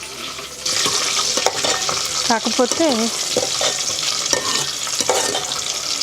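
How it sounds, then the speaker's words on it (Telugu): Crushed garlic sizzles in hot oil for a tempering while being stirred, a steady frying crackle throughout with a voice speaking briefly over it. "వెల్లుల్లిపాయలు కూడా చెదగొట్టేశారు పోపులో"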